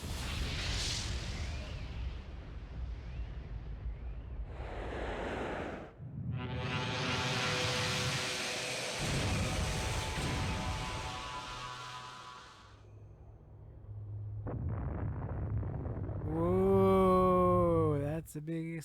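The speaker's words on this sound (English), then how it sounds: "Whoa, that's a big explosion." A large explosion in the video game Xenogears erupts as a loud, sustained roar of blast noise lasting several seconds. A sharp burst comes first, then a long rumbling wash, followed by swelling synth music and rising tones.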